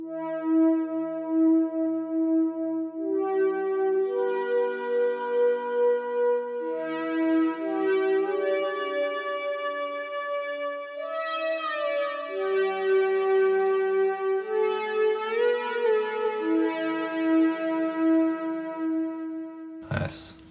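Main melody of a song from Shrimp Game, recorded on guitar and converted by a program into a smooth synth-like tone, playing a steady chill phrase of sustained notes for about twenty seconds with no talking.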